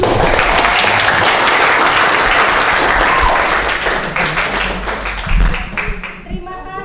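Classroom applause from students and teachers at a teaching practice session, a dense steady clatter of many hands that thins toward the end, with voices talking over it.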